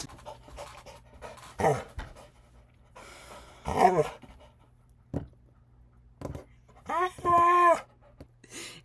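A dog pants in quick, rhythmic bursts close by, with a couple of louder breathy gasps and whimpering tones near the end, against a low steady hum, no talking.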